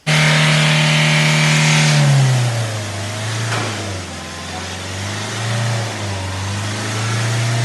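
A Kia Seltos engine after a flood and accelerator replacement, revving loudly at high RPM, then dropping to a lower, uneven surging rev that rises and falls, close up, without speech.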